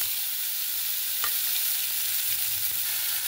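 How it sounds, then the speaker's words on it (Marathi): Chopped fenugreek leaves sauté in hot ghee, a steady bright sizzling hiss that stays constant and close throughout, with a single soft knock partway through. "अशा प्रकारे आता ही तुपामध्ये ही भाजी आपल्याला परतून घ्यायची।"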